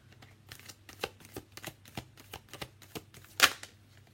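Tarot cards being shuffled by hand in a steady, close series of soft riffling slaps and ticks, with one sharper, louder snap of cards near the end.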